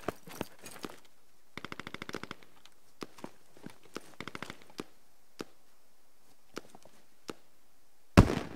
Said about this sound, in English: Some shots being fired down there.